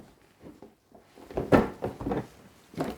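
A Masters of the Universe Fields of Eternia board game box is opened by hand, with a series of soft cardboard scrapes, rustles and light knocks coming in uneven bursts close by.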